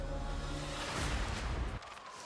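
Battle din from Total War: Pharaoh Dynasties, a Babylon campaign: a dense, continuous roar of ranged fire and clashing combat close up, dropping abruptly to a quieter rumble near the end.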